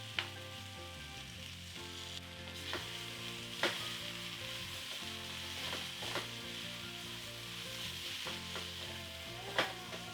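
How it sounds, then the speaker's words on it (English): Cauliflower and potatoes sizzle steadily in a pot for an aloo gobi, a dense continuous frying hiss with a few sharp knocks of a spoon against the pot, no voices. "Now back into the pot, add the cauliflower and the potatoes."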